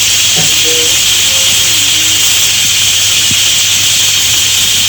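A pressure cooker holding chicken breast and vegetables for chicken soup vents steam with a loud, steady hiss that runs the whole time, with a few faint short tones near the start.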